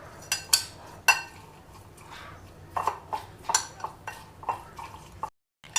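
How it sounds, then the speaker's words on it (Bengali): A spoon stirs sugar and mint leaves together in a glass, giving a series of sharp clinks and scrapes at an irregular rhythm, close and fairly loud, with no talk. "একটা চামচের সাহায্যে এই সমস্ত উপকরণ ভালো করে একটু মিশিয়ে নেব"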